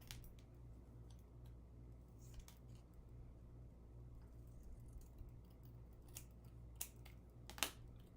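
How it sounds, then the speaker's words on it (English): Scissors snipping a Lego logo off a Friends set manual, a few quiet close paper cuts and clicks spread sparsely over a faint background with no voices. "I'm definitely gonna cut off the Lego logo."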